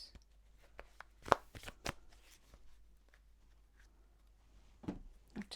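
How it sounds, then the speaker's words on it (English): Tarot cards being shuffled in quick riffles and taps, with sharp flicks scattered through quiet pauses. "I have to shuffle these in threes."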